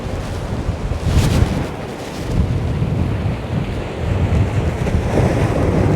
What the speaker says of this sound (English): it's quite an audible thing when the tide turns here